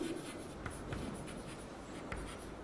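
Pen or marker scratching out an equation by hand during a straight-lines maths lesson on family of lines, a soft continuous scribbling with short strokes and taps, fairly quiet and close, with no talk.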